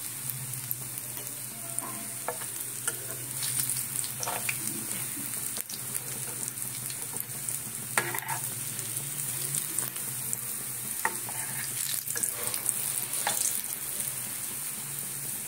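Shrimp, yam and potato chops sizzle and spit steadily in a pan of hot oil, a continuous close frying crackle with occasional sharper pops and clinks, no talking.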